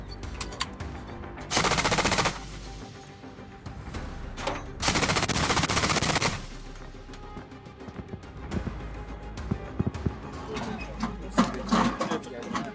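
Distant machine gun fire in long rattling bursts, two strong volleys with quieter sporadic shots between, under a low background rumble, from air defence firing at Shahed drones.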